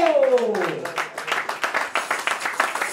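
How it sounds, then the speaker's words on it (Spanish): Congregation at an evangelical church service bursting into dense, continuous clapping right after a voice trails off, the applause staying loud and even to the end. "Denle un aplauso a Dios"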